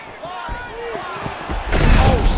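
A double leg takedown slam in the EA Sports UFC 6 fighting game, with a heavy, broadband thud landing late after a stretch of game sounds while a commentator talks throughout.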